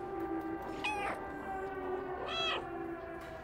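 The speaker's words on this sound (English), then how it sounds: "Oh, I can still meow in cutscenes." In a cutscene of the video game Stray, a cat meows twice, drawn-out and clear, with a pause between calls over a quiet ambient background.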